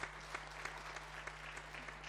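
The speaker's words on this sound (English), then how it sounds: "Let us give her a round of applause." Applause from the audience at a launch event, honoring a teen coach as she is introduced, comes in a steady, fairly faint stretch of scattered clapping against a constant low hum, with no one speaking over it.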